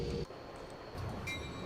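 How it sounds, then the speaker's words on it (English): Metra commuter train in Train Simulator 2020 slowing into a station, a low steady rolling rumble with faint rail noise and a thin squeal near the end. "Coming in on a diversion clear, so we're going to go ahead and slow down the train here"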